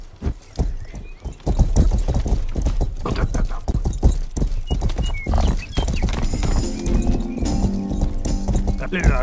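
Horse hooves gallop in a rapid, steady clip-clop rhythm in the medieval video game Rustler, loud and continuous, with a brief whinny and other game sounds mixed in.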